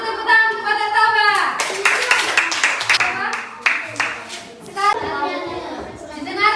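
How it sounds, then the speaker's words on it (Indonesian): A room full of children clapping together for several seconds, with scattered young voices calling out over the applause. "Beri dulu tepuk tangan untuk Batak Toba."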